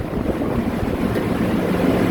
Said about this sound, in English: I see the jacket water pump.